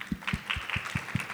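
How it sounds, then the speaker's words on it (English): Faint, sparse applause from a conference audience at a fireside chat during a Dubai health event, with soft, evenly spaced claps that sound distant and quiet. "I think that's a place for an applause."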